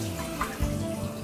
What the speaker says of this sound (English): you're going to add a 50-50 half cup water,